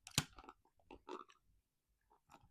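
Close, quiet crunching and chewing of an undercooked boiled new potato from a seafood boil, a few distinct bites followed by softer mouth sounds.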